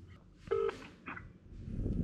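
A single phone dialing tone beeps briefly as a call back is placed on a mobile phone, a short clear electronic tone amid quiet room noise.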